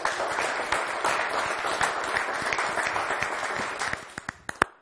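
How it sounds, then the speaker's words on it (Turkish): Studio audience applause on a Turkish word-game TV show, dense steady clapping that thins out toward the end into a few last separate claps. "En sevdiğim şey işte şu alkış."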